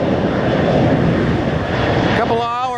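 A jet airliner takes off from an airport runway, a loud, broad, continuous engine roar close by that fills the whole stretch, with a brief whistling tone near the end.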